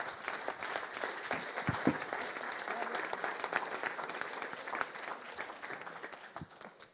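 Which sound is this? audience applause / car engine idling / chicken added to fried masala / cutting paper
audience applause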